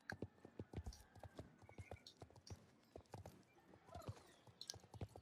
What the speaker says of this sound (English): No, it's just an old horse.